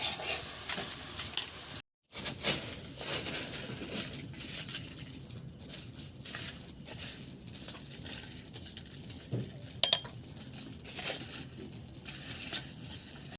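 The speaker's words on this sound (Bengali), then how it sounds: "এখন আমরা মশলাটাকে সুন্দর করে কষিয়ে নেব কড়ার তলা যেন না লেগে যায়" Spices for a vegetable bhuna khichuri are stirred and fried in a pan, with a steady sizzle and the scrape of a spoon against the pan close by and no talking.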